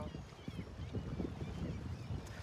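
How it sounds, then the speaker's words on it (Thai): Strong sea wind buffets the microphone in gusty low rumbles at a coastal spot in Sweden, with faint scattered sounds underneath and no clear speech. "ลมมันแรงเนาะ ลมทะเลก็มีแค่นี้ค่ะ"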